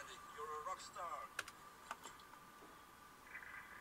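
Someone types on the keyboard of a Compaq CQ45 laptop in a few short, quiet taps and clicks, with faint tones and a little background noise behind them.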